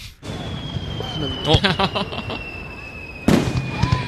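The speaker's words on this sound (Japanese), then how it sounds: "そんな代わりに、うん、花火が飛んでいきました。" Fireworks crackle and pop in a quick burst of sharp bangs, with a steady whistling tone running beneath and another loud burst near the end.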